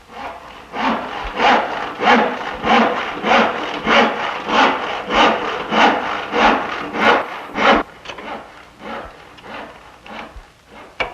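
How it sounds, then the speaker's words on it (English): A hand saw cuts through a glued-up spruce blank for an 18th-century-style harpsichord, loud steady rhythmic strokes about two per second, then slowing and stopping near the end. "This will then be sawn to shape, and the case sides built up around it."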